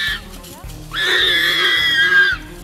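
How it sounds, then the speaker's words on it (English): A warthog squeals while being attacked by hyenas, giving one long, shrill, wavering cry that lasts over a second above a low background rumble. "you can hear the warthog squealing in the video"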